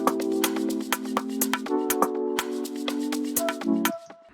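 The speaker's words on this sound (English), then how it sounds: "We've got this shaker loop." A beat with a shaker loop: quick, crisp shaker hits tick steadily over soft chordal tones, close and even, with no talking.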